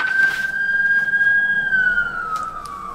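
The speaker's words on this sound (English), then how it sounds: "Sorry, there's sirens going on outside." Emergency vehicle sirens wail outside, heard through thin windows, a steady high tone that slowly falls in pitch toward the end, moderately loud and without talk.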